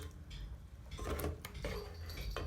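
Tomato paste going into a small dish, heard as light clinks and scrapes of a utensil against the dish over a soft background hum.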